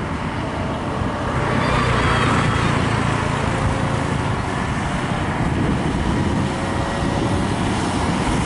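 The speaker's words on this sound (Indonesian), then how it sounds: "Banyak truk di sini ya," Trucks pass on a new road at Kadungora, Garut, West Java, making a continuous loud roar of engines and tyres that swells slightly but never lets up.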